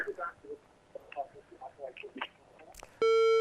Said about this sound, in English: Oh, the line cut from beautiful South Africa.